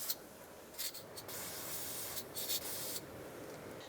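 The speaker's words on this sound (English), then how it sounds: "Then we're going to use a little bit of spray penetrant" Short bursts of aerosol penetrant spray hissing onto spring clips during a radiator replacement on a 2004-2012 Chevy Colorado, several quick blasts with pauses, close to the microphone against a steady background hiss.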